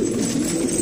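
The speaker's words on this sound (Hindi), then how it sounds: "ये सारे रोलर कबूतरे हैं, चिंगारे रोलर, ये सारे मेल कबूतरे हैं" Male Chingara roller pigeons cooing together in a group, a steady low murmuring coo that runs without a break and without talk.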